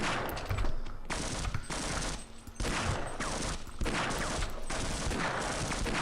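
Rapid automatic gunfire rings out in a Half-Life level set in offices, with dense bursts of shots and brief lulls, loud and continuous with no speech.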